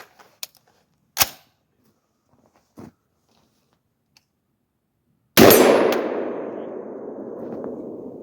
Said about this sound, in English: I'm making sure that the bolt face comes all the way back and catches